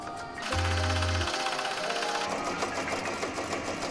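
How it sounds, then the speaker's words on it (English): An embroidery machine stitching a monogram onto a duffel bag, starting with a low hum and settling into a fast, even needle rattle, close and loud. "let's go ahead and we can start embroidering."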